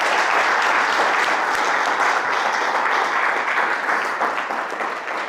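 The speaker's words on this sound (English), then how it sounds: "give him a nice clap, give him a nice thank you for everything he's done for me" Audience clapping in a warm show of thanks for someone's mentor, sustained and full throughout, easing slightly toward the end.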